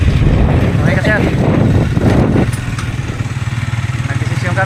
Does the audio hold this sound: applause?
no